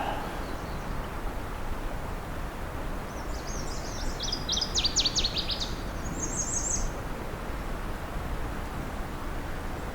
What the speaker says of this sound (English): It's definitely northern water thrush.